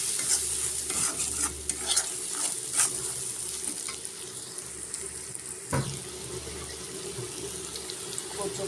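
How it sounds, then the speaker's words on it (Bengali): A spoon stirs spiced taro leaf mash of chili powder, turmeric and salt in a pan, scraping and sizzling softly and continuously, with a few sharper clinks and a faint background hiss. "এখন নেড়ে চেড়ে নেব।"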